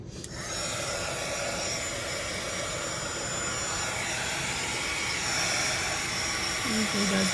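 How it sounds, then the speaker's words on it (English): A handheld dryer blows steadily over freshly coated decoupage buttons, a constant close whooshing hiss that runs throughout and swells slightly near the end. "I'm gonna run the dryer over it just a second"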